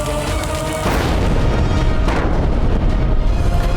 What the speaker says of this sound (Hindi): और उसके बाद तो हाकिम खान ने मुगलों के तोपों से मुगलों पे ही गोले बरसाए